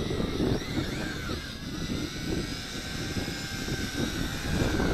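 A Tarantula X6 drone flies on a test flight, its rotors producing a steady buzzing whine at moderate distance with fluctuating low rumble, no talking.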